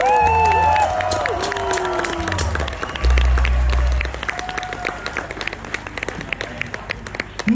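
Concert audience at an outdoor May festival show applauding steadily, with scattered cheers and voices mixed into the dense clapping; a brief burst of loud low rumble cuts in midway.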